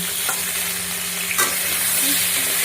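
Potatoes frying in hot oil in a pan for a katla fish curry, a steady loud sizzle with stirring scrapes and a brief louder burst partway through, no voices.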